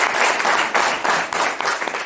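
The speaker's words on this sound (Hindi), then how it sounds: "हाँ चलो ताली बजाओ बंदे के लिए।" An audience at a business training seminar claps for a participant, a loud burst of applause that comes in a few uneven surges and settles back, with no talking over it.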